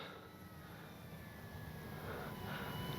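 An FMS 1700mm PA-18 Super Cub RC plane comes in to land, its engine a steady distant drone that swells slightly louder as it approaches, with no talking over it.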